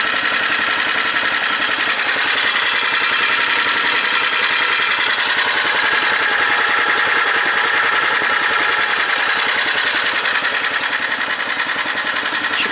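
A cold D-250 diesel engine idles while warming up after a head gasket replacement, a steady, close mechanical clatter with a fast, even knocking pulse throughout.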